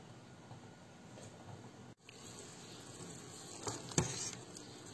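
Pempek dumplings dropped into a pot of boiling water, giving a steady bubbling simmer with a soft splash near the end, fairly quiet and close, with no voices.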